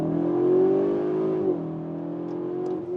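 A Cupra Leon VZ, facelift model, accelerates from 60 to 100 km/h in Cupra mode, its engine note a steady, loud, rising drone heard from inside the cabin that eases slightly after about 1.5 seconds.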